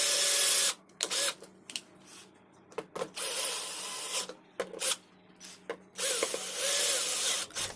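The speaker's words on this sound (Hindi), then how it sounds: "तो अब मैं इलेक्ट्रिक स्क्रू ड्राइवर की मदद से पावर सप्लाई के सभी स्क्रू को लगा देता हूँ" An electric screwdriver driving power supply screws into an LG 32-inch LCD TV, giving several short whirring bursts separated by pauses and clicks, close and unaccompanied by talk.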